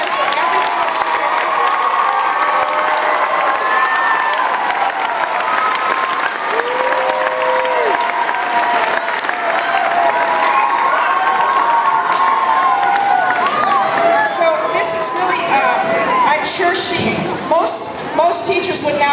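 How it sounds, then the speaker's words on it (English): An audience and children applaud and cheer for a teacher at a school Christmas-time event, with dense, sustained clapping and shouts filling the whole stretch at close range, steady and loud throughout. "let's give her a wonderful round of applause"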